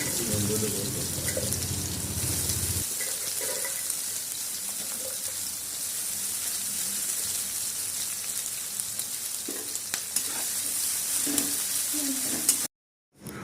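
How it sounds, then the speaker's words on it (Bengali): Garlic paste fries with chopped onions, dried chilli and cumin in hot oil for a chicken curry. A steady, fairly loud hiss runs throughout, with a lower rumble early on and a few scraping stirs. "রসুনের কাঁচা গন্ধ চলে না যাওয়া পর্যন্ত ভালো করে ভাজতে হবে"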